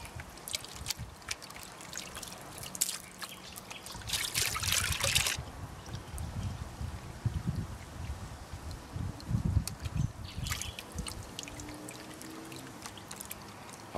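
Water sloshes and trickles in a gold pan of pay dirt at a creek, the swirling close and continuous with louder surges as material is worked, no talking.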